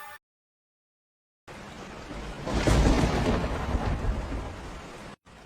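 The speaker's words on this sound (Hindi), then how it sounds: "बाहर घनघोर बारिश हो रही थी और बिजली कभी कभी कड़क कर माहौल को और भी डरावना बना रही थी।" Heavy rain pours down with thunder on a stormy night; after a brief silence a loud, deep rumble swells and rolls for a few seconds over the steady downpour, then cuts off.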